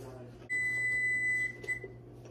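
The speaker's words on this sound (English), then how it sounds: "That was the timer going off for it." Kitchen timer beeping while viral TikTok recipes are tested, here twisty bacon, giving one sustained electronic tone for about a second and then a shorter repeat, fairly clear over a low background hum.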